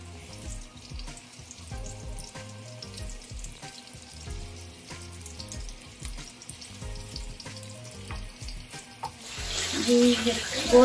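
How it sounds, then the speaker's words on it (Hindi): Chicken kofta meatballs fry in hot oil with a steady, close crackling sizzle throughout that grows busier and brighter near the end. "ये ऑयल हमारा गर्म हो चुका है, अब हम फ्राई करते हैं।"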